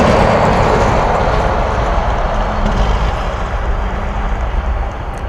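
Cathay cargo jet taking off at Anchorage airport, a loud sustained roar of jet engines that stays strong and slowly eases over a few seconds, with no voices.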